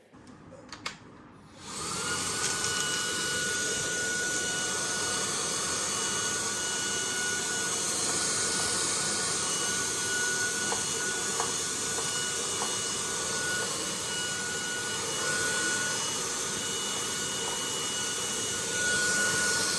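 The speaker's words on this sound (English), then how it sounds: "So this vacuum cleaner did a fine job in cleaning the headrest" An Agaro Supreme cordless vacuum cleaner starts after a brief quiet moment and then runs steadily with a high whirring whine, its tone shifting slightly as it cleans a bed headrest.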